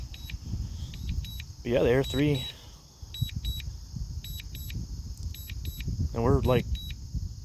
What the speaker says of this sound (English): I really wish you could turn that beeping off